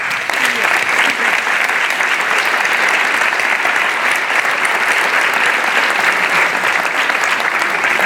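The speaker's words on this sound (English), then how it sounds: "please stand for a round of applause" An audience at a college convocation ceremony claps in sustained, dense applause that stays loud and even throughout, with no pause.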